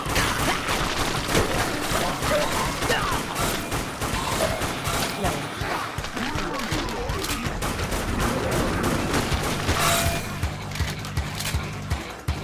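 Rapid rifle fire in the zombie shooter game Dead Nation, dense continuous bursts of shots with clattering impacts filling the whole stretch, loud and close.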